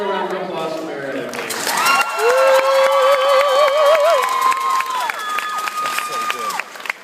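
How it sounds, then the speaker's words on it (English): Audience applause and cheering at a New York Cares event, with whoops and a rising, wavering whistle over dense clapping that swells and holds, a voice briefly audible early on. "Another round of applause for Meredith."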